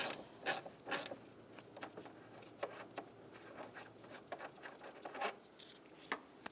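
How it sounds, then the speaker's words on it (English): An 8mm socket loosens the single bolt holding the AC condenser cooling fan on a 2000–2007 Ford Taurus, heard as quiet close ratcheting clicks and small metallic taps in irregular bursts. "Now we're going to use an 8mm socket and disconnect that bolt."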